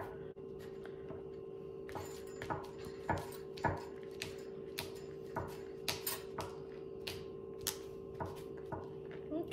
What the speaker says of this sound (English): Now I'm just chopping this up as best I can